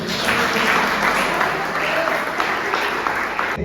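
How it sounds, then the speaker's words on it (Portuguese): A church congregation at a Friday worship service applauds, a dense, steady wash of many hands clapping together at close range, sustained throughout. "Que as nossas palmas louvem o Senhor."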